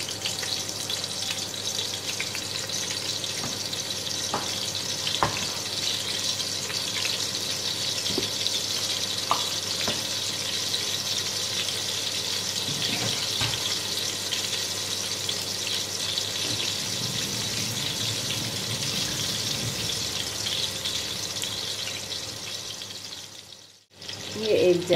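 Onion and a bay leaf fry in a pan with a steady, close, bright sizzle that holds for the whole stretch, broken by a few soft clinks of stirring and a brief dip near the end.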